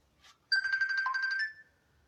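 A phone ringtone plays a short warbling melodic ring burst, fairly loud and alone, just before a call is answered.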